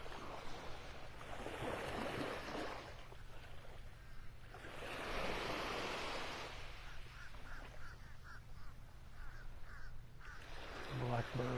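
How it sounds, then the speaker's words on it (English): Blackbirds calling on a beach in North Naples, Florida, a run of short repeated harsh calls rising above steady surf and wind, with the birds at moderate distance. "Blackbirds calling out."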